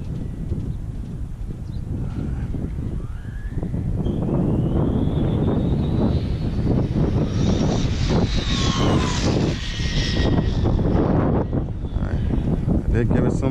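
Traxxas Slash 4x4 RC car motor at high speed on a speed run, a loud rising electric whine that builds and sweeps in pitch as the car passes, with heavy wind rumble and voices mixed in.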